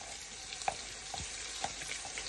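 Onion and garlic fry in a pan with sausages in a soft, continuous sizzle, with a few faint clicks and scrapes of stirring, quiet and close, with no voices.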